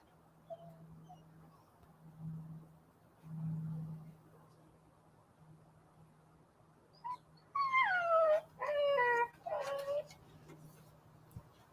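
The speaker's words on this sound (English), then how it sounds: "My bad dog is trying to break out of the fence" A puppy whimpering at a backyard fence, a few high whiny cries in quick succession toward the end, moderately near over a low background hum.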